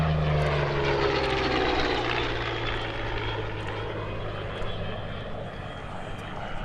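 Yak-9 with a V-12 liquid-cooled Allison engine in airshow flight at Andrews AFB, a loud propeller drone passing overhead and slowly fading with the distance.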